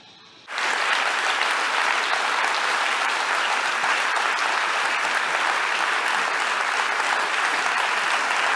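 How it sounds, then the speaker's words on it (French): Prolonged audience applause bursts in after a quiet moment and holds steady and full, a dense, even wall of clapping from a large crowd with no break. "L'applaudissement est prolongé."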